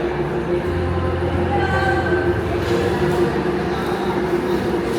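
A steady, loud mechanical rumble of a train standing at a station, a constant drone with faint tonal hums and no clear movement.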